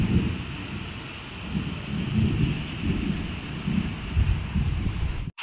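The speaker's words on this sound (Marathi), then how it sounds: "ढगांचा आवाज आणि विजेचा कडकडाट ऐकून बिट्टू सुद्धा उठली" Thunder rumbles low and steady through rain, with heavy rolling bursts building at intervals over a constant hiss of rainfall, loud and close, no voices.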